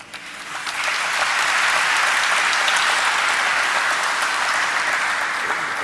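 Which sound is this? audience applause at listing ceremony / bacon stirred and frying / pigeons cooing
audience applause at listing ceremony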